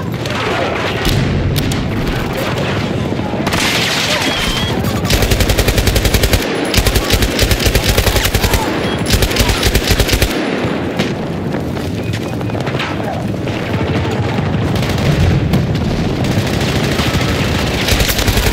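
In the shooter game Battlefield 2042, an M240B machine gun fires long rapid bursts, loud and close, broken by short pauses and mixed with booming explosions and battle noise.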